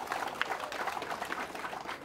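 Applause from an audience at a municipal government ceremony in Magelang, a brief burst of steady clapping lasting about two seconds at moderate distance.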